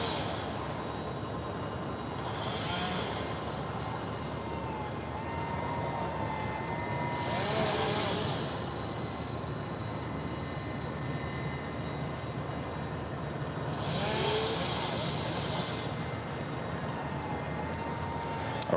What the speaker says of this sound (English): That is Spirit Airlines Flight 590 coming in from Houston, Texas. It's an A320.